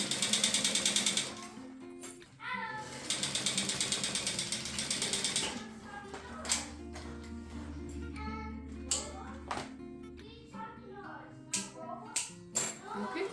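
A sewing machine stitches the side seams of a purse made from a juice carton, giving bursts of rapid mechanical clatter and ratcheting that start and stop, close and moderately loud, with short pauses between runs.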